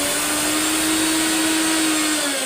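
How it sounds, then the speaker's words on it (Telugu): Electric mixer grinder blending sesame seeds in a home kitchen, a steady loud whirring motor drone with a sustained hum throughout, no talk. "ఫస్ట్ అయితే నువ్వులును, నెక్స్ట్ ఇవి కూడా మిక్సీ పట్టి తర్వాత మిగతావి వేసుకోవాలి"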